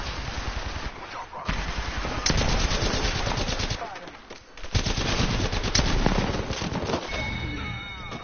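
Rapid automatic gunfire in Apex Legends season 4 rattles loud and close in several sustained bursts, with brief pauses between them and a voice speaking over the shooting.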